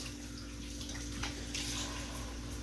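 Hot water from a kitchen tap pours steadily into a sink, a constant close rushing splash with no breaks.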